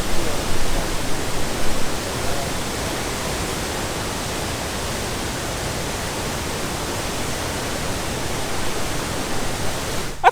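Steady roar of the Ero Omola Waterfall in Kwara State running at high volume, a dense unbroken rush of water filling the whole stretch with no voices.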